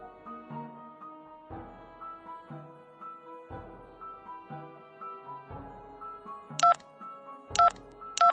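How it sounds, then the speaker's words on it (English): Telephone keypad tones and dialing melody as 911 is called in a virtual surgery hospital game on Android, clean electronic beeps in a repeating rhythmic pattern with sharp higher tones near the end. "Call 911."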